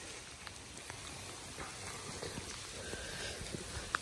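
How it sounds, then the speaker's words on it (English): Rain pouring down on an open hay field, a steady soft hiss of drops with scattered pattering and faint knocks, moderately quiet and continuous throughout with no talking. "In the pouring rain."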